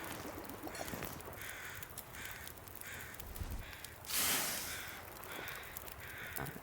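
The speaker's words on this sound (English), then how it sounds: "we can already hear the sunrise crows." Crows cawing outdoors at sunrise, a series of harsh, rasping calls repeated in short bursts at a moderate distance over quiet morning air, with one louder noisy burst midway.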